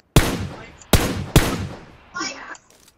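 Gunfire in PUBG Mobile: three loud, close gunshots with decaying echoes, followed by a brief metallic rattle and softer clicks.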